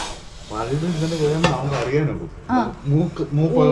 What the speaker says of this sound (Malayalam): ഈ മുതിരയുടെ കൂടെ വാഴയിലയുടെ കൂടി ഇട്ടിട്ടാണ് ഇവർ വറക്കുന്നത്